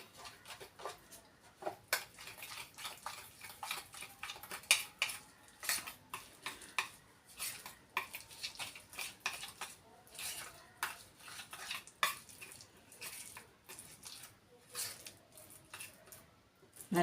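A spoon mixes batter with yogurt in a bowl, making quiet, repeated clicks and soft wet squishes that keep an uneven rhythm throughout.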